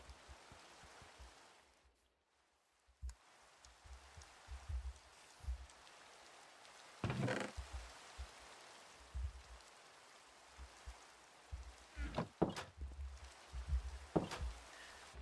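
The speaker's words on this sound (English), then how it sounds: "Get rid of the rain." Steady soft hiss of rain in the game Minecraft, falling continuously with a brief gap, punctuated by a few sharp clicks and knocks from gameplay.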